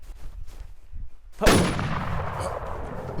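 A single sharp, loud gunshot from Valorant gameplay bursts out after a quiet stretch of faint low rumbles and decays into a ringing tail.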